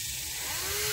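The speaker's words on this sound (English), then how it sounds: "going to drill a little hole right here in the plastic" A power drill whines steadily up close, drilling a small hole in plastic on a 2023 Ford Maverick, its motor pitch rising as it spins, a brief continuous burst with no talk.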